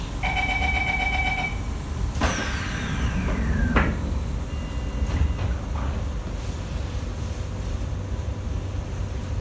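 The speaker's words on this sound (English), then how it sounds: "doors are closing." Singapore SMRT Kawasaki & CSR Sifang C151A train on the North South Line: a short repeating door chime, then a long descending electronic tone as the doors close, over steady onboard rumble.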